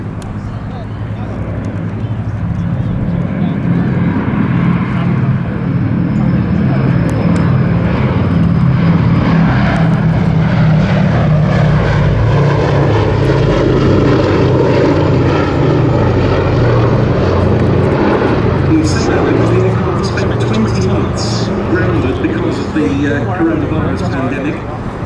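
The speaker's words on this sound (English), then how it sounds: "what a pleasure to once again see a display over Duxford from B-17G Sally B." A B-17G Sally B bomber flies a display at Duxford, and its piston engines and propellers drone loud and steady throughout, swelling and shifting in pitch as the aircraft passes, with a commentator's voice faintly under the engine noise.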